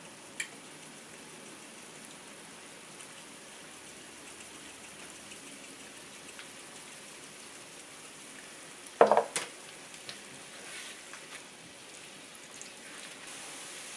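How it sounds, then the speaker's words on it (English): Corn tortilla pieces frying in a pan for migas, a faint, even crackling sizzle throughout, broken by a sharp cluster of clatter from the pan around the middle. "So now basically we're going to let this fry."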